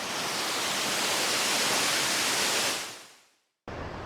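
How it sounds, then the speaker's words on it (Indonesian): Temesi waterfall in Gianyar, Bali, gives a steady, dense rushing roar up close. It fades away to near silence, then cuts abruptly back in. "Sekali-sekali kalian kalau ke Bali wajib mengunjungi air terjun Temesi di Kabupaten Gianyar."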